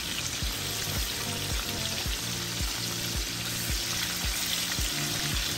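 Garlic and four green chillies frying in hot oil for chicken 65, a continuous loud sizzle with steady crackle and occasional stirring, heard close and alone.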